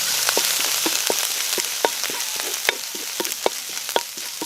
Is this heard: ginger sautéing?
yes